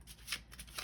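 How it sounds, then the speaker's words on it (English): A deck of tarot cards is shuffled close up in quick soft riffling bursts, quiet and unaccompanied by talk. "All right, let's go ahead and shuffle"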